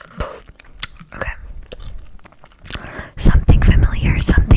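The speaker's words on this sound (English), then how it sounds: "I'm now chewing gum." Gum chewed very close to the microphone gives soft, wet smacking and clicking bursts, growing louder toward the end, with whispered talk mixed in.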